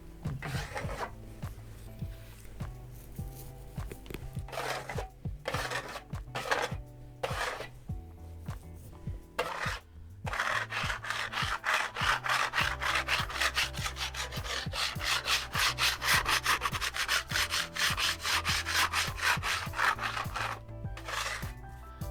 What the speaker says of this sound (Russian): Подполировали металлическим шпателем.